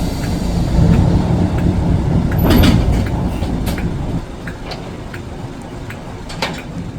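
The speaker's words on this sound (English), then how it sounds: "a much smaller locomotive called a shunter is used to move the rolling stock to the storage sheds" An ex-British Rail shunter locomotive built in 1961 moves rolling stock toward storage sheds: a loud steady rumble with rhythmic clicking of wheels over rail joints, easing somewhat quieter partway through, no voices.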